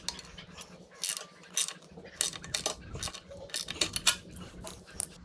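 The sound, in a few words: tightening skid plate mounting bolt on motorcycle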